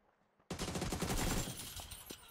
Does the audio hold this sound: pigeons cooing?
no